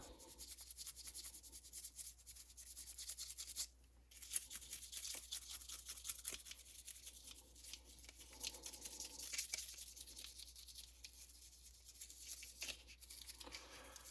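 A toothbrush scrubs the outer surface of an Apple AirPods charging case in quick, dry bristle strokes, close and faint, with a brief pause partway through.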